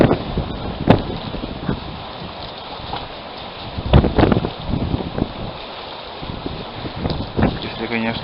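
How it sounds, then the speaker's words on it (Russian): Strong spring wind blows across the Nivsher river, where waves run over a metre high. Gusty buffeting and rumble hit the microphone in loud bursts over a continuous rushing roar. "Ветер сильный."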